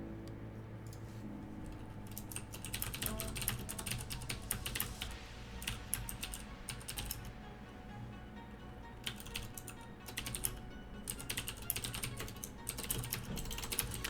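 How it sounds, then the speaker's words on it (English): Rapid, continuous clatter of computer keyboard typing, fairly close and steady, with a low background hum and no talking. "I'm typing this out so it's easier to remember."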